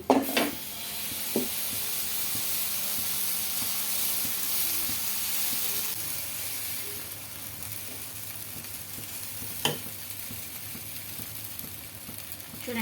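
Batter sizzles steadily on a hot oiled pan, a constant crackling hiss with a couple of brief clinks, and no voices.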